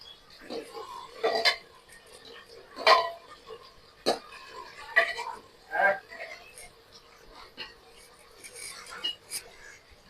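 Sooji halwa is stirred in a pot with a spoon, giving quiet, intermittent scraping and metallic clinks at irregular intervals against a faint, hushed background.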